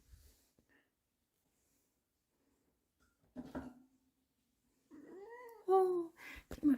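A pet cat vocalises indoors in a few close, rising meow-like calls near the end, after a long quiet stretch with faint brief sounds.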